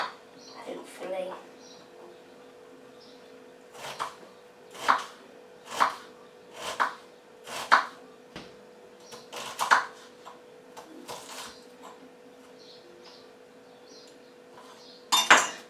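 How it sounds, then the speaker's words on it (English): Knife chopping vegetables finely into small squares for coleslaw on a board, a run of sharp, evenly spaced chops fairly close by, with a pause before a last loud burst, over faint room hum. "I'm just going to chop this up really fine now into little squares"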